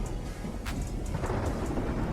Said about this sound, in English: Oh, and then we're coming back in with the storm.